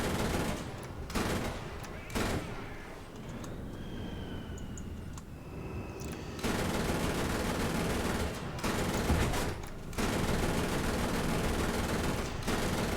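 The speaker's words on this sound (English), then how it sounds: "I'm able to kill most of these guys with the 20 millimeter gun" A 20 millimeter aircraft gun fires in the combat video game War Thunder, with sustained bursts of rapid automatic fire over a loud engine drone, broken by brief pauses.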